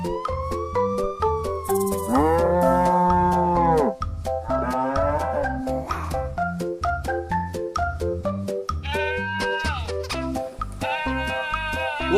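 A toy farm animal truck plays electronic, musical animal calls, including a cow's moo, over a bouncy looping beat, loud and continuous, with no talking.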